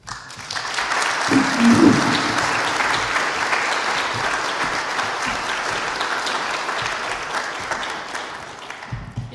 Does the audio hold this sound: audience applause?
yes